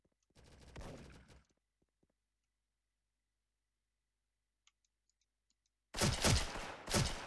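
A UMP-45 submachine gun fires in the video game Special Force: a rapid burst at the start, near silence with faint clicks, then a louder burst of gunfire at the end.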